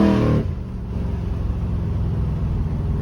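A car fitted with a Turbo 400 automatic transmission revs high in first and then shifts into second, the engine note dropping abruptly and settling into a steady, loud rumble as it drives on.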